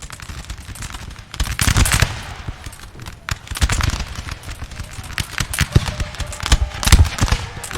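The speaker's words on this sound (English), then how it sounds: "Volley fire, men!" Musket volleys crackle in a Napoleon Total War battle during a frozen river crossing, with bursts of rapid overlapping shots that rise and fall over several seconds, loud and dense, under faint game background noise.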